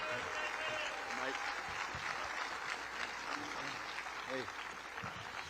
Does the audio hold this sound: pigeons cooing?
no